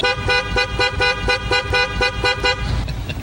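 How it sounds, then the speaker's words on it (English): Car horns honk repeatedly in traffic outside a Taco Bell, a steady rhythm of blaring toots, loud and close, with engine noise underneath and no talk. "There's a lot of horn honking going on there"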